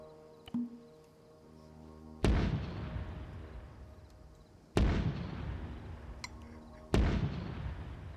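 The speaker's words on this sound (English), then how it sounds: "There's a mortar to the west of us." Mortar fire in a military video game: three loud, heavy booms, each followed by a long rumbling decay, spaced a few seconds apart over a low background.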